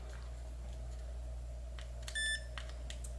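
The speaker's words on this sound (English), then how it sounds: "push down both of those buttons at the same time, and you'll hear this beep" A short high-pitched electronic beep sounds once against a steady low hum.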